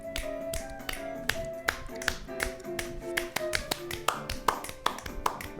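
People clap in a steady beat along with a talk show's theme music, crisp, evenly spaced claps sitting right on top of the tune.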